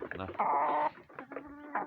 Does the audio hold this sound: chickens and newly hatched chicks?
yes